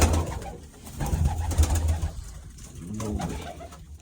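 Pigeons coo in low, soft repeated calls, several overlapping, with a faint background hiss and no talking.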